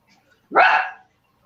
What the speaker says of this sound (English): one that's barking